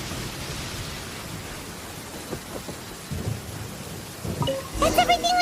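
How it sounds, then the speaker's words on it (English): Rain and rumbling thunder from the Genshin Impact game world, a steady wash of rainfall with low thunder swells building louder near the end, joined by bright chiming game tones at the close. "Let us find shelter from the rain."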